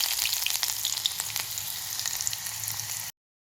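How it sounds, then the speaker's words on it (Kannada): Chopped onion fries in hot oil with a bright, continuous crackling sizzle and scattered pops, close and steady, before cutting off abruptly into silence. "ಆಯಿಲ್ ಇವಾಗ ಬಿಸಿಯಾಗಿದೆ. ಇವಾಗ ನಾವು ಆನಿಯನ್ ಹಾಕೋಣ"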